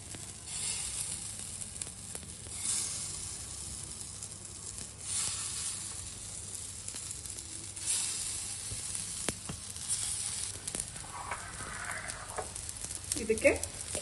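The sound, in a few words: palak paneer tikki shallow frying in oil on a pan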